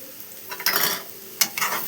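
An onion, coriander and egg curry is stirred in a pan: two quick bursts of scraping and sizzling rise over a quiet background simmer, close and fairly loud.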